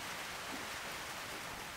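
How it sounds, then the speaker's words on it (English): Steady rain drums on a tin roof at a fly fishing camp in the Australian high country, a dense, even hiss of drops that stays level and unbroken throughout, with no voices. "Apart from the sound of the rain on the tin roof"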